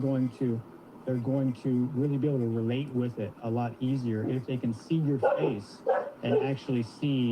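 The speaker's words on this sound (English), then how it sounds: "Sorry about my dog." A dog barks and yips indoors, mixed in beneath a person talking continuously in the foreground.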